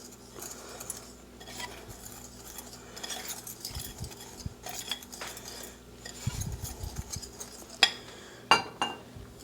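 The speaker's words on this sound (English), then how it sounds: "It's like putting your cornstarch slurry together with water and cornstarch so you don't get lumps. So we're going to mix this together." A spoon stirs cornstarch and water into a slurry in a bowl, giving soft scraping and faint, irregular clinks against the side, with a few sharper taps near the end.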